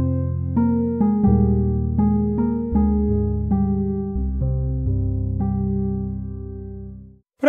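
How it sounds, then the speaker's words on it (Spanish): Electric piano preset from a free virtual piano library, set in a spacey ambient sound, plays a slow melody of sustained, ringing chords with soft attacks. Each note decays smoothly, and the instrument is heard alone. "tiene uno que es un piano eléctrico en el espacio"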